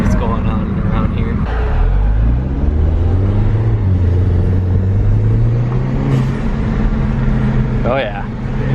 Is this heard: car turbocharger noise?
yes